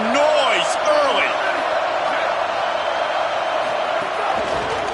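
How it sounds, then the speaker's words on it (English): Crowd at a Tennessee vs IU game building energy early, a broad roar of cheering filling the stadium beneath a commentator's voice. "This crowd bringing the energy and noise early."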